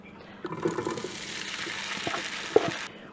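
Marinated shrimp tipped into a hot pan for shrimp fried rice, giving a broad steady sizzle that starts abruptly and holds for a few seconds, with a couple of light utensil clicks near the end.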